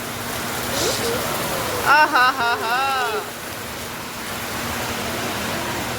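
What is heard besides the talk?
heavy rain falling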